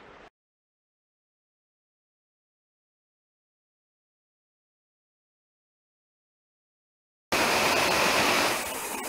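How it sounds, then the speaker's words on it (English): Water from a waterfall trickling down into a little creek: a sudden burst of steady, broadband rushing near the end, after a long stretch of silence, loud and close with no voices. "that's where the waterfall starts and it goes, trickles all the way down into the little creek right over there"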